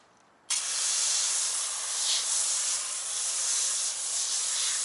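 A foam sprayer loaded with Auto Fanatic wheel cleaner bursts into a loud, continuous hissing spray after a brief quiet start, holding steady and close for several seconds with no voices.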